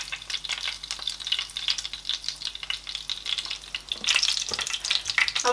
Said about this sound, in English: in the same pan, I'm going to add a little bit of oil